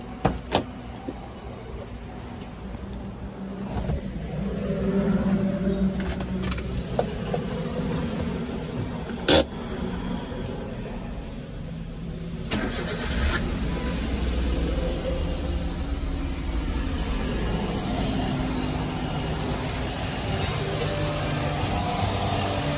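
A 2017 Maruti Alto 800 LXi car's engine is started and settles into a steady running rumble, with a sharp knock or click partway through and the engine sound lifting slightly about halfway in.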